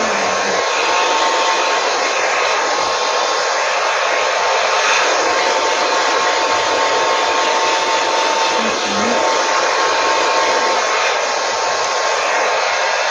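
A hair dryer blows steadily as hair is dried during a night routine, a loud, close, continuous whooshing hum with a faint motor whine that holds unchanged for the whole stretch, with no voices.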